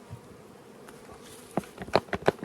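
Honeybees hum softly around an opened hive during spring unwrapping and splitting, with a low steady drone and a few louder close buzzes as bees fly past near the end.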